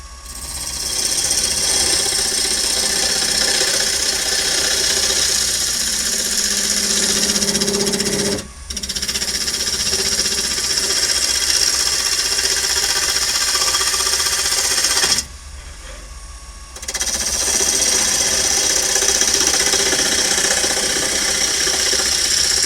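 A wood lathe spins a yew carving mallet as a skew chisel cuts it, a steady close whirring hum that drops out twice briefly before resuming.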